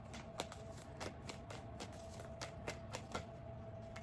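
Tarot cards being shuffled, a series of light crisp riffling snaps at an irregular pace, faint and close against a steady background hiss, with no one talking.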